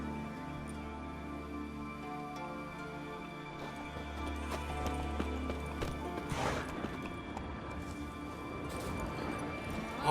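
A horse's hooves clip-clop faintly in the video game The Witcher 3, a quiet, irregular patter under low game ambience that grows slightly busier midway.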